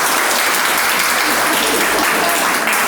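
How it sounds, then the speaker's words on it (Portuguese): Audience applause at a spiritist study talk at Casa do Caminho, a thick, continuous patter of many hands clapping at close range, with no break. "Uma salva de palmas para ela ali"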